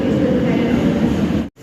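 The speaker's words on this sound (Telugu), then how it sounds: "మెట్రో ట్రైన్ చూస్తున్నారు కదా, మెట్రో ట్రైన్ చూడండి" Metro train at KL Sentral underground station, a steady loud low rumble and rolling rail roar filling the space, cutting out abruptly near the end before resuming faintly.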